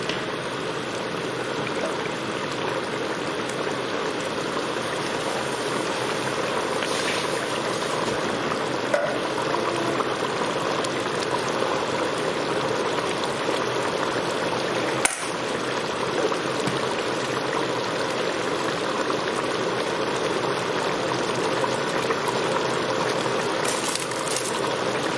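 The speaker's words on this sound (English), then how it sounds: "So we'll leave this to boil up a little bit and then we'll come back." Chicken karahi curry sauce on the bone bubbles and sizzles steadily in a pan, a continuous close simmering hiss with occasional faint clinks and no talking.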